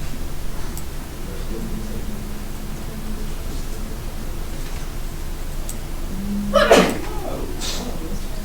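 One quick, sharp sneeze bursts out near the end over a steady hiss of background noise, with faint talking around it.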